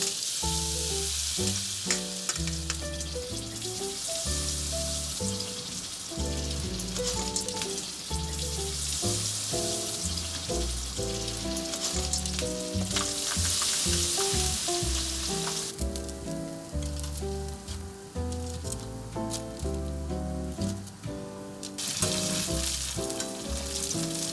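Assorted tempura sizzles and crackles steadily in hot oil for a Korean home breakfast of lemon soba and mixed fried food, loud and continuous with scattered pops and occasional stirring, no talk.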